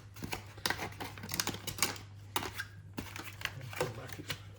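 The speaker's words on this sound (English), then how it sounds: "if you need to come back and cut from the other side, just to clear some of the plastic out" Short scraping cuts into the plastic inner fenders of a Traxxas Maxx Slash RC car, coming as a quick series of rasping strokes close up, with a steady low hum underneath.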